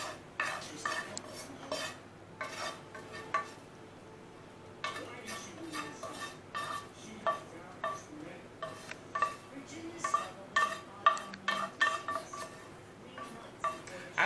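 Half an onion and two whole garlic cloves go into a frying pan of turkey meat, with a utensil clinking and scraping against the pan in irregular bursts, soft and close, under some quiet speech.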